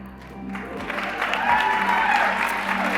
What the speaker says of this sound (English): Big round of applause for the Chief Human Resources Officer for Merit Medical Systems, Inc., Mike Voigt.